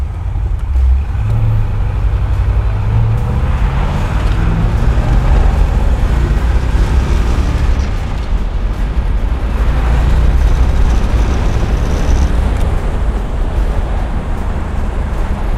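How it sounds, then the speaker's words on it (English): High-compression fuel-injected 1963 Corvette V8 sitting at idle, a loud, dense, steady low rumble that holds evenly throughout without voices. "This thing idles perfectly."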